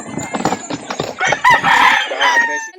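A rooster crows amid the clatter and clucking of chickens at a crowded poultry market in Calauan, Laguna, with one loud drawn-out crow rising near the end over shuffling background noise.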